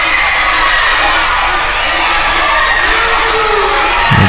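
A wrestling crowd cheers steadily for the reigning champion during a match between veteran Tyson Dux and the titleholder, a dense roar of shouts and whoops sustained loudly throughout at close range.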